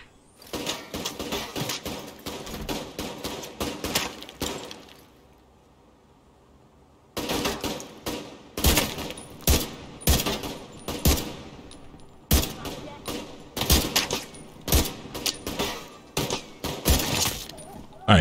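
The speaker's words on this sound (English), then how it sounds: "He was shooting me up too" Gunfire in The Division 2: loud bursts of rapid automatic shots and single cracks in uneven clusters, broken by a brief near-silent pause before the shooting resumes.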